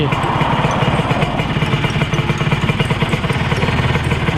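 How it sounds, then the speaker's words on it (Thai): A Kawasaki 150 motorcycle engine running after a start, a loud, close, steady buzzing idle with a rapid pulsing beat and no pauses. "เดี๋ยวเราลองติดเครื่องกันก่อนนะครับผม เราลองติดเครื่องกันดูนะครับ"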